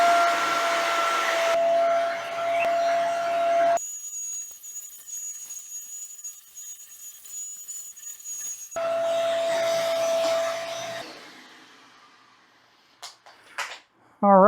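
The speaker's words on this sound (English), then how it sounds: "The last thing to show you is to turn this dryer mode on." A Tineco Carpet ONE Cruiser carpet cleaner runs in drying mode on a rug with a steady, loud motor whine. It drops to a quieter high-pitched hum partway through, surges back to full roar, then winds down to near silence, ending in short clatters.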